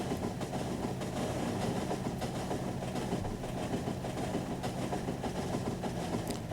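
Trains rolling on rails in the video game Factorio, a steady close rumble with rhythmic clickety-clack over a low engine drone, continuous and without voices.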